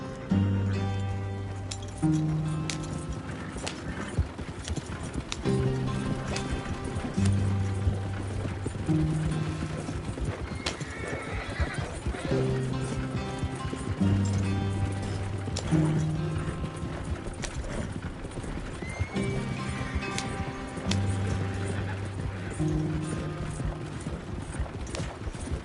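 A horse in Red Dead Redemption 2 gallops with rapid, rhythmic hoofbeats throughout, over a backing of repeating musical notes and faint mechanical clinks; a neigh is not clearly evident.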